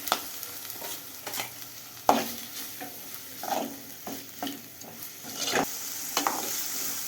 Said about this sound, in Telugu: ఇప్పుడైతే పచ్చిమిరకాయలు వేసుకుంటున్నాం పచ్చిమిరకాయలు వేసుకున్నాం కదా ఉల్లిపాయలు కూడా వేసుకుంటున్నాం